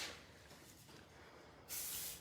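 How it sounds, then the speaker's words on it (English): A light hair spray from Davinus is misted over a short graduation haircut, giving one close, airy hiss burst near the end after quieter salon rustling. "this is a light spray from Davinus."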